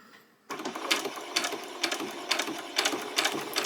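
A sewing machine runs in repeated bursts of rapid stitching through dress fabric, close and fairly loud, starting abruptly after a short quiet moment.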